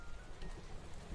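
Steady rain falls outdoors in the woods at night, a dense, even hiss of drops that is faint and continuous, with no voices.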